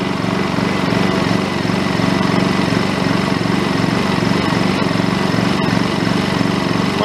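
A Honda EU2200i inverter generator runs steadily nearby with a loud, even engine drone. There are no changes in pitch and no talking.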